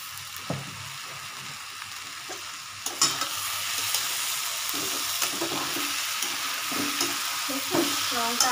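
Vegetables including capsicum frying in mustard oil while being stirred in a pan, a steady close sizzle with scraping stir strokes scattered throughout, no talking.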